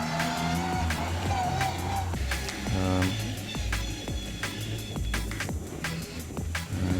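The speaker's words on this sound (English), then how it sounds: "we were going in here and doing handbrake turns" A rally car in the Dirt Rally racing game performing handbrake turns, with a steady engine roar, rising revs and tire scrabbling on loose ground, continuous and close.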